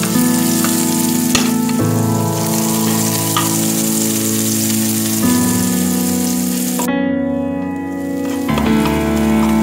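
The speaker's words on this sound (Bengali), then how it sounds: "একটু সামান্য নুন দিয়ে দেব যাতে পেঁয়াজটা তাড়াতাড়ি ভাজা হয়ে যায়।" Chopped onion with a little salt frying in a pan, a loud continuous sizzle with a steady crackle and occasional stirring clatter, with no talk.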